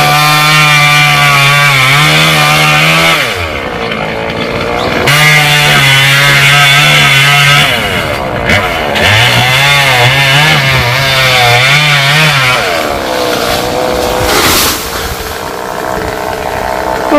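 A loud chainsaw cuts through a coconut tree trunk close by, with a steady high engine drone that revs up and drops back as the blade bites into and eases off the wood, continuing without break throughout.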